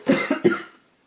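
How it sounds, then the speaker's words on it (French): A short burst of two or three quick coughs, close and fairly loud, then silence. "pardon, je tousse"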